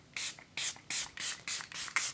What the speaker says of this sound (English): It has a really nice mister too, comes out just very evenly and like light.